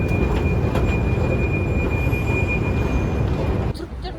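A metro train runs through a station or tunnel in Hungary with a loud, continuous rumble and rail squeal while people talk over it, then the noise drops sharply near the end.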